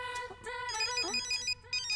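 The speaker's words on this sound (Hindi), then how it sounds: "मेरा फोन बज रहा है," A mobile phone ringtone plays a bright electronic melody of repeating tones, fairly quiet and heard alone with no talk over it.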